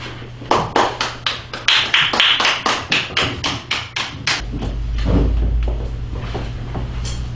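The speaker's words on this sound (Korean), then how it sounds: "큰 박수 부탁드리겠습니다" A crowd at a live Korean CCM gospel concert claps in a steady, quick rhythm for the singer. The sharp claps fill the first few seconds, then thin out as a low sustained tone comes in underneath.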